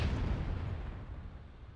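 Deep, rumbling cannon blast in a battle video game, a heavy low boom that rolls on and slowly fades over a couple of seconds, with no talk.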